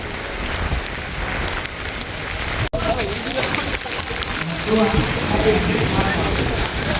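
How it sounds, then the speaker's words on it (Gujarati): Heavy rain pours steadily in Dwarka with water flooding everywhere, a dense broadband hiss with drops spattering on surfaces nearby; a voice briefly speaks partway through. "ફૂલ વરસાદ છે અત્યારે ફૂલ પાણી ભરાઈ ગયા છે બધી જગ્યાએ"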